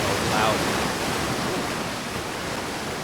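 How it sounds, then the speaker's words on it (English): Loud, steady roar of a waterfall in the video game Outer Wilds, a constant broadband rush of falling water close by that fills the whole scene without pause. "Oh man, this waterfall is loud."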